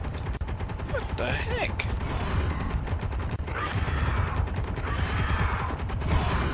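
Rapid gunfire rattles in Space Engineers, a dense burst of repeated shots with mechanical clanks and whirs mixed in, while a voice briefly speaks over the din.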